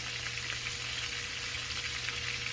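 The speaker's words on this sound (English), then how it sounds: "I'm going to fry this till it's done." Flour-dredged food fries in a hot skillet, a steady close sizzle with fine crackling spatter running throughout, no talking over it.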